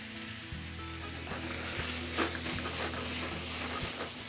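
A pan with capers sizzles steadily after a splash of white wine, a moderate close hiss with a few soft knocks and a brief louder burst midway, no talking.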